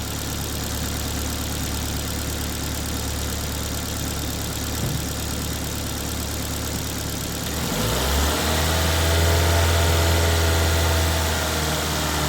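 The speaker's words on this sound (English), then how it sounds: "I can't believe how quiet this engine is." A Ford Fiesta 1.25 engine idles steadily with a low, even hum and faint vibration, close by, briefly revving partway through before settling into a deeper drone.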